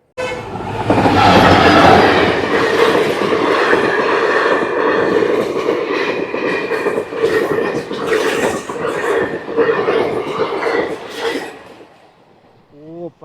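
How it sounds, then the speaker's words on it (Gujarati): A fast train roars past close by at a railway crossing, loud rumbling and rhythmic clatter of wheels for about twelve seconds, then fades quickly; a voice briefly at the end. "આ બાજુથી જો ટ્રેન આવે છે"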